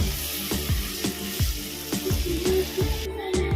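Strained ground mustard water poured into a hot pan of sautéed spices for a Bengali fish curry, a steady pouring gush over a constant sizzle and bubbling, close and fairly loud, with no talking.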